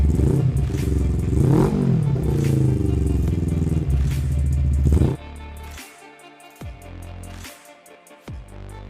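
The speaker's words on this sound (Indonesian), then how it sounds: "kalian dengerin sendiri nih suara knalpotnya" A Suzuki Inazuma 250 motorcycle exhaust roars steadily at high revs, then drops to a rough idle with a few short, sharp throttle blips.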